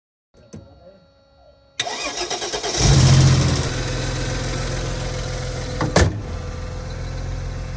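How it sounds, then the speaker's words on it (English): A Mercedes car engine cranks and fires after a jump start with a dead battery, catching with a loud surge that settles into a steady idle, close by with a brief clatter near the end. "Because Mercedes always start."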